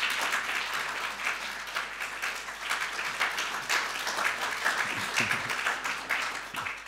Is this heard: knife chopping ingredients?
no